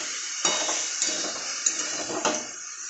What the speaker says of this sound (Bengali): সুন্দর করে নাড়িয়ে চাড়িয়ে নেব